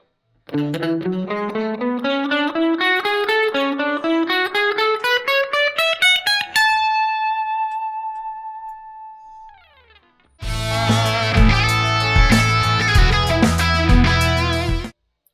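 An alternate-picked electric guitar lick climbs in a quick run of evenly picked notes to a long ringing held note that decays, then after a short gap a loud, dense distorted passage takes over, alone and up close.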